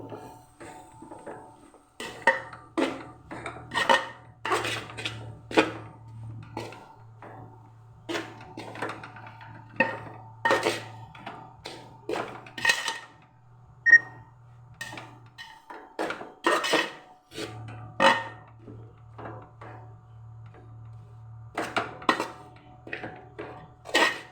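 Jackfruit cutlet mixture spiced with pepper and green chilli is stirred in a pan, giving repeated close scraping and clinking strokes in an uneven rhythm over a low steady hum.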